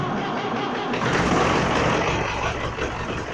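A Ford 7710 tractor's engine starts from cold on a January day: a short turning-over gives way about a second in to a rough, rising roar that settles into a running rumble.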